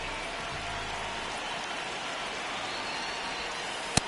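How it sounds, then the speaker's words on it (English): Steady rain hisses evenly across a baseball game in MLB The Show, a constant wash of falling drops with one brief sharp tick at the very end. "It really feels like we might be running out of time before a rain delay is called. This rain is not letting up."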